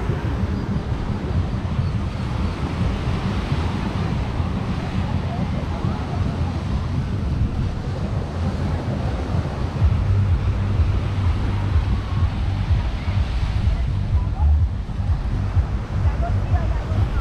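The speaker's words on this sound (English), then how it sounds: "But it's always nice to be at the beach." Ocean surf on the beach at Playa del Carmen makes a steady low rushing roar with wind noise across the microphone, continuous and moderately loud throughout.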